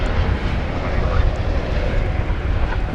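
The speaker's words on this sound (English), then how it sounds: "And there's the Qantas plane" Qantas airliner at Dallas-Fort Worth International Airport at night, a steady, loud jet engine roar with heavy low rumble filling the whole stretch without letup.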